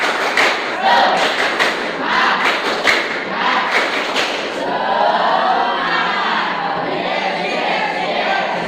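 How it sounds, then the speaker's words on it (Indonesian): A seventh-grade Islamic studies class does a patterned spirit clap, with loud rhythmic bursts of hand claps in the first half, followed by a chorus of students' voices. "Tepuk semangat."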